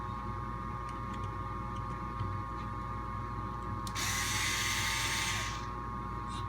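A power driver whirs for a couple of seconds, backing a screw out of the chassis of an SCX10.2 RC crawler. It is heard close over steady background hum, preceded by a few faint clicks.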